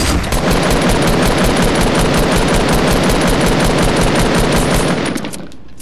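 Sustained automatic gunfire in a video game rattles in a rapid, unbroken stream of loud, close shots for several seconds before cutting off abruptly, with no voices over it.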